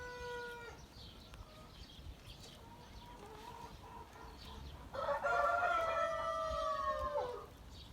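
Backyard roosters crowing among chickens, one drawn-out crow at the start, softer clucks in between, then a louder, longer crow close by near the end, with faint light rain in the background.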